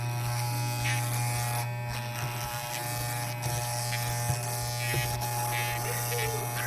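Electric trimmer buzzing steadily while cutting a boy's hair at the base of the neck, a close, continuous hum with slight shifts as it moves.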